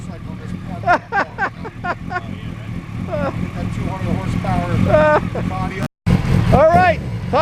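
A motorcycle fitted with a Hayabusa motor revs hard in repeated sharp bursts while spinning its rear tire in a burnout, close and loud, with people talking over it.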